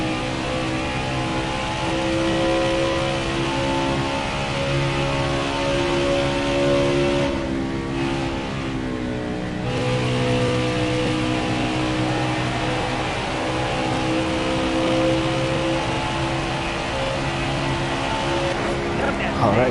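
A NASCAR race car engine drones steadily in a racing video game at Charlotte, a constant buzzing whine with slight pitch shifts as the car circles the track, moderately loud throughout.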